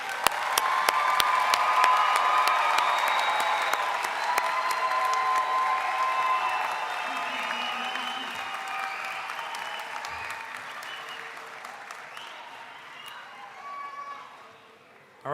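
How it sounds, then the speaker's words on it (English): A commencement audience at a university graduation ceremony breaks into sustained applause, dense clapping with some cheering that gradually thins toward the end. "All right, let's do one more round of applause."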